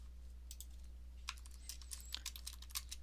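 Quiet computer keyboard typing, a scattered run of soft keystroke clicks over a steady low hum, with no voices.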